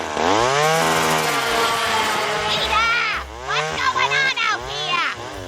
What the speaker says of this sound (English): use his chainsaw to hollow out a tree in their yard, causing a massive racket